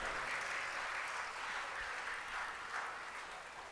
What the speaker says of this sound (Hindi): आज तो तालियां कुछ ज्यादा जोर से नहीं बजा रहे हैं आप।